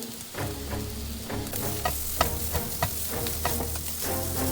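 Sliced onions with mint and fenugreek leaves frying in a pan for mutton curry, a steady close sizzle with light crackles and occasional stirring scrapes, moderately quiet and without speech.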